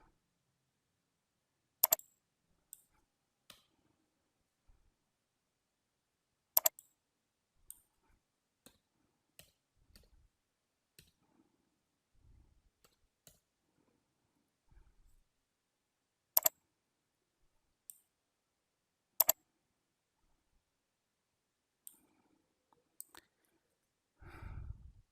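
Sharp, sparse computer mouse clicks on a desk during PowerPoint editing, single and double taps spaced irregularly, close and quiet against near silence.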